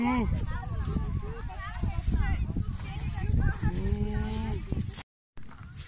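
A person imitates a cow, letting out drawn-out mooing calls amid other voices and chatter at an outdoor camp, the moo sliding in pitch over several seconds.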